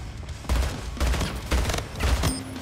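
A battle rifle in Splitgate fires four quick bursts in an even rhythm, each a tight cluster of loud, punchy shots close by.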